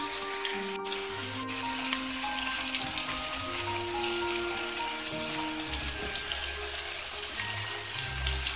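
Scallion, ginger, garlic and fermented black beans stir-fry in oil with pork for red braised pork belly, giving a steady, close sizzling hiss that runs throughout without talk.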